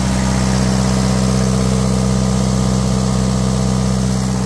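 An Onan 12.0 DJC diesel generator engine runs at a steady idle, giving a loud, continuous low drone with an even mechanical throb throughout and no speech.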